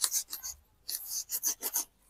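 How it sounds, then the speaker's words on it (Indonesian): A hand saw rasps back and forth in short, repeated strokes, cutting around a sancang stump dug up as bonsai material, with a brief pause partway through, close by. "saya gergaji keliling nih"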